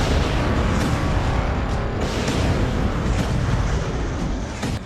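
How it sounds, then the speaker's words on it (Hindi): An Iranian Khaibar Shekan missile strikes and explodes, a loud, dense roar of blast and rumble filling the whole stretch and fading slightly at the end, with no talk. "ये गिरी खैबर शिकन, ईरान की सबसे सटीक मिसाइल।"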